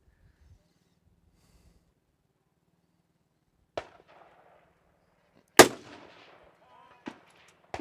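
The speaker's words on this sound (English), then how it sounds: "Shooting a very light rifle here." Rifle shots from a very light carbon fiber barrel rifle in an LSS chassis with a light scope and muzzle brake at a precision rifle match, several sharp cracks at irregular intervals with echoing decay, near and loud, over quiet background.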